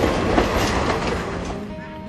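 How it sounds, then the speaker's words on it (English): A train running on the Kanchanaburi railway in Thailand, a steady close rumble with rhythmic wheel clatter on the rails that stays loud throughout, with a faint voice underneath. "The train now returns to Kanchanaburi"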